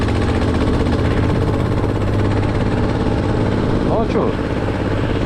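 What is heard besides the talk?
Muravey motor scooter engine idling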